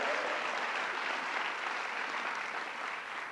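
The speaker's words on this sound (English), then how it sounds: "Let's give her another round of applause." An audience applauds at a governor's bill signing for legislation removing guns from domestic abusers, the clapping dense, loud and sustained throughout, tapering only slightly at the end with no talking.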